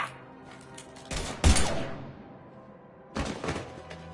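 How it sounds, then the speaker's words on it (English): Mass Effect 3 gunfire bursts out in two loud volleys, a sharp cluster of shots around the middle followed by a quieter pause and another burst near the end, with no talking over it. "Now open fire!"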